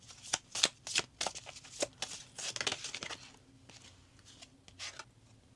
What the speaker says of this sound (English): But I'm going to pull another card here.